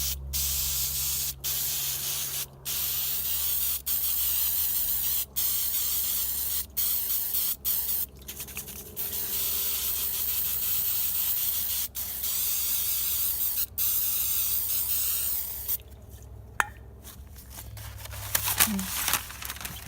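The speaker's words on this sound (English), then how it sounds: "I'm going to spray down this cardboard box top" Spray paint hissing onto a cardboard box top in long continuous bursts broken by short pauses, close and loud, with someone talking between and over the spraying.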